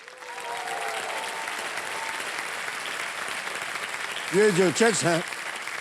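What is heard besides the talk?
studio audience applause on a TV quiz show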